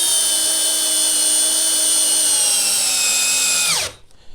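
Milwaukee M12 4-in-1 cordless driver sinking a 3-inch screw, a loud steady high whine that slows and drops in pitch near the end before cutting off abruptly.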